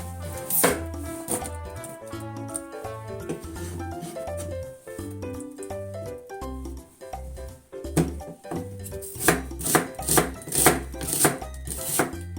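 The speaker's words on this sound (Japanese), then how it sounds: "どんな切り方でもいいけど、ちょっと大きめのみじん切りにしたいと思います" Knife chopping onion into coarse mince, brisk rhythmic thuds on a cutting board, close and clear, with a faster burst of chops toward the end.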